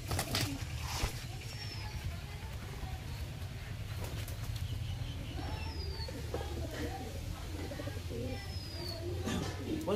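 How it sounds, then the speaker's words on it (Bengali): Pigeons coo inside a pigeon loft, soft repeated low coos over a continuous low hum, with occasional faint chirps and a few handling noises. "এই আরেকটা পায়রা, এটা মাদা পায়রা"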